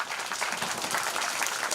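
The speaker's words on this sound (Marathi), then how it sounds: "सर्वांनी आपल्यासाठी जोरदार टाळ्या होऊन जाऊ द्या" Sustained applause from an audience of parents and children at a school event, a dense, even patter of many hands clapping at moderate distance with no talk.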